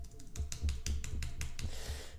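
Volume plus and minus keys on a computer keyboard are pressed in a quick series of about eight crisp, evenly spaced plastic clicks, close up over a low background hum.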